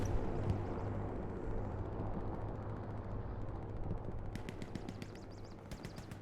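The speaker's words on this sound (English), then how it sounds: "Nice little strafing run there." Aircraft strafing gunfire in the WWII shooter Hell Let Loose: a sustained, dense roar of rapid fire and rumble throughout, with sharper bursts of shots crackling in toward the end, loud and continuous.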